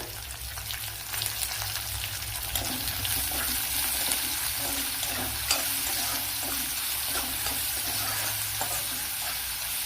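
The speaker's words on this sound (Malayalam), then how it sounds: "ഇതൊന്ന് നല്ലതുപോലെ ഒന്ന് വഴറ്റിയെടുക്കണം സവാള." Onion with a pinch of salt sautéing in a pan, a steady soft sizzle with scraping stir strokes recurring throughout, close and fairly even in level, with no voices.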